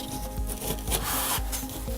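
A wetroom shower tray being trial-fitted onto a wooden board, giving rough scraping and rubbing with a few dull knocks, close and fairly loud, with no voices.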